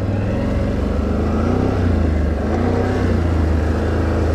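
A Can-Am Renegade XMR 1000 ATV pushes along a flooded trail, its engine a loud, close, continuous low drone that swells slightly midway without letting up.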